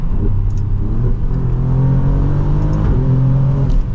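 A 2024 Alfa Romeo Giulia Quadrifoglio accelerates in track mode. The engine gives a steady, close, low drone that rises a little over four seconds, and no one speaks.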